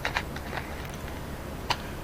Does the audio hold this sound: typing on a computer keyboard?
yes